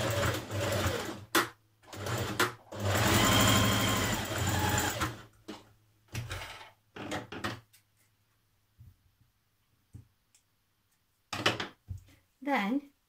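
A sewing machine runs in several bursts while stitching a dress seam with a 1.5 cm allowance and back-tacking, a loud whirring stitch pattern with short pauses and faint handling noises between runs.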